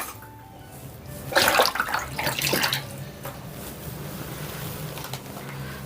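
Water splashes and gushes into a soaking tub holding a semi-silk saree in a short burst, then settles into a quieter steady trickle.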